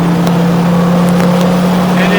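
Stabicraft 2050 SuperCab boat with a Yamaha F175XA outboard under throttle, a loud steady engine drone with strong tonal hum close by, wind and water rush over it, and a voice talks briefly.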